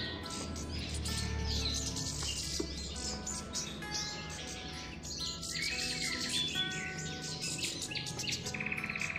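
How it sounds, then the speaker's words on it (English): Young Punglor birds chirp constantly during feeding, a dense cluster of high, thin tweets and calls running close to the microphone throughout. "Here's a little video clip during the process of feeding young Punglor birds."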